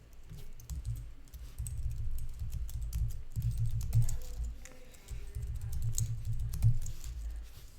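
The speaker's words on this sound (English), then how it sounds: "again, typing." Fast, continuous typing on a computer keyboard, close and clear, with bursts of rapid key clicks separated by short pauses.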